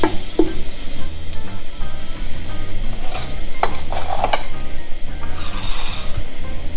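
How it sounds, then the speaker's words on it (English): Garlic sizzles in oil in a pan for jambalaya, a close, loud, crackling fry with occasional stirring clinks and scrapes. "And then I'm gonna go ahead and add the garlic in there."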